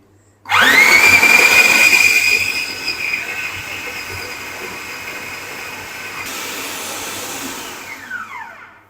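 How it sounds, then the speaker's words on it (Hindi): An electric chopper grinds meat into mince for kofta, starting with a loud close motor whine that rises, then settles into a steady lower hum that runs for several seconds before cutting off. "इनको हम तकरीबन 5 से 6 मिनट चलाएंगे चॉपर को, इनको अच्छी तरह पीस लेंगे"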